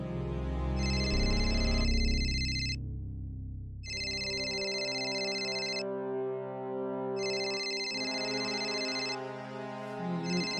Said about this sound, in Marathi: मम्मीचा फोन आलाय,